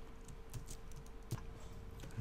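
Keys on a computer keyboard are tapped as someone types a shortcut in Illustrator, a few faint scattered clicks over a steady low hum.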